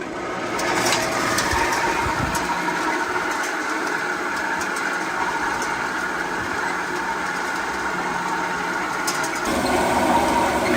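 Motors of a gold wash plant with a jigging sluice at a Canadian gold mine run without pause, a loud steady mechanical drone with a faint rattle layered over it throughout.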